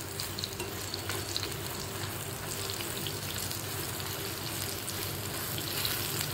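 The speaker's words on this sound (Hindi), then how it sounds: "अब मैं इसमें तेल गरम होने के लिए रख दिया है, इसमें इसको रोस्ट करूंगी।" Soybean chunks roast and stir in hot oil in a pan, giving a steady, close, continuous frying sizzle with faint scraping throughout, no voices.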